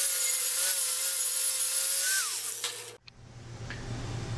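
Thick slag is cleaned off a stick weld bead laid with a small 6013 rod on thin metal, a steady close grinding rasp running a few seconds, then stopping abruptly and leaving a quieter hum.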